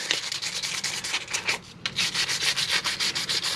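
Hand sanding a Honda CX500 motorcycle part with 600 grit sandpaper, rapid rhythmic back-and-forth rasping strokes, close and steady, with one brief pause midway.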